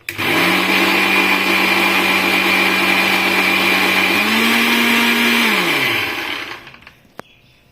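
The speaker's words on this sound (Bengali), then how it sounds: "এখন আমি মিক্সিতে এটা পেস্ট করে নিব।" An electric mixer grinder blending paste with water whirs loud and steady for several seconds, its pitch stepping up briefly before winding down to silence, followed by a single faint click.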